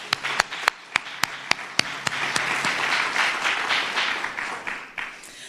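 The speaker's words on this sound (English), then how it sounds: "That deserves a round of applause." Audience applause at a state government event on pre-K funding with the New Jersey governor, opening with a few loud, sharp individual claps that swell into steady, dense clapping from the crowd, with no talk over it.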